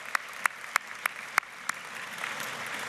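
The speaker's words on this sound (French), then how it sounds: "On peut l'applaudir, c'est quand même un exploit." At a press gallery gala dinner, a few sharp, evenly spaced handclaps ring out near the listener, then give way to a soft, rising murmur of wider applause.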